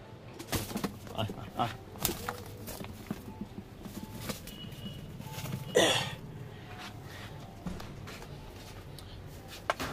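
Kaldum pigeons coo softly and intermittently inside a breeding cage, faint and low beneath room noise, with a sharp cough-like burst partway through and occasional nearby sounds.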